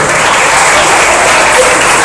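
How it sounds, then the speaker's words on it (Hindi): At a mushaira poetry gathering, an audience breaks into loud, dense applause, a sustained wash of clapping with no pauses and little talk. "जोरदार तालियां हो जाएगी"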